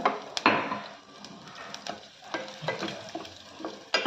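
Coarsely crushed coriander seeds, cumin and black peppercorns sauté in a little oil for tomato coriander shorba, with soft crackling sizzle and intermittent scraping stirs of a spoon against the pan, close and fairly quiet.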